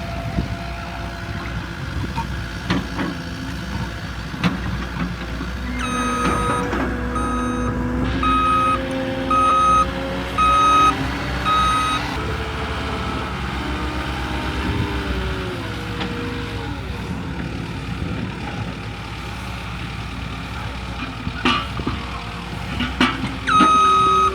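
A truck backs up on a home foundation excavation site to dump sand for backfill, its backup alarm beeping steadily for several seconds over a rumbling diesel engine, with clanks and machinery noise around it.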